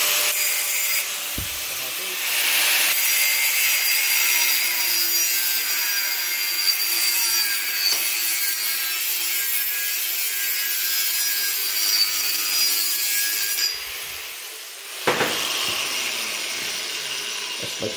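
Metal pipe tubing for a roll cage being sawn by hand at a 45-degree angle, a steady, loud rasping of back-and-forth strokes that runs almost continuously and pauses near the end.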